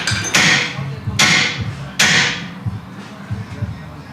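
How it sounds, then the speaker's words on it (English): A big hammer strikes a truck part three times in a garage, each sharp metallic bang ringing out briefly before fading, with quieter shuffling noise in between. "Big hammer."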